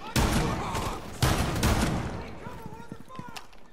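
Rainbow Six Siege gunfire comes as two loud, rapid bursts of automatic fire close by. The shots fade into quieter scattered clatter and echoes, and a voice speaks briefly beneath them.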